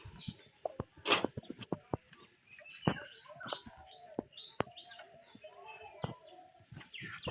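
Pigeons perched together at a coop give soft, low cooing among quick sharp chirps and flutters, fairly close and moderately quiet, with no talk.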